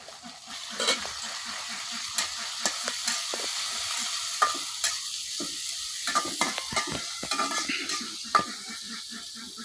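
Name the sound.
dried fish frying and stirring in pan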